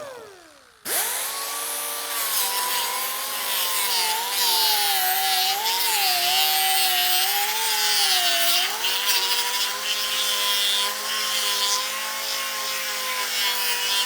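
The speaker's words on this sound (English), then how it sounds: "Then you do is grind down the sides right there" A power grinder runs continuously, close and loud, with a high whine that rises and falls slightly as it grinds down the sides of a metal piece in a classic car shop.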